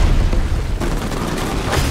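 Dense, booming bursts of gunfire in the video game Uncharted: Legacy of Thieves Collection roll continuously, loud and close, with heavy low rumble and sharp cracks layered together.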